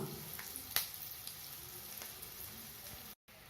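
Eggs fry quietly in a pan over low heat for pepper gravy, a faint soft crackle and sizzle with a few light ticks, no voices.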